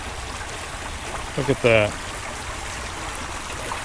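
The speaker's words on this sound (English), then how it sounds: "This is that waterfall trail in Branson, Missouri." Soft, steady rush of flowing stream water on a waterfall trail in Branson, Missouri, runs throughout, with a man's brief remark spoken over it midway.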